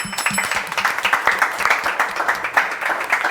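Steady audience applause in a TV show studio, a dense wash of clapping that holds at an even level for several seconds with no voices over it.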